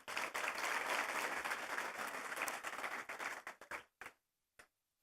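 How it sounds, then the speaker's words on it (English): Audience applause fills the room at an awards gala dinner, a dense steady wash of many hands that thins out and trails off into a few scattered final claps before silence. "How about a big round of applause for that amazing dinner tonight?"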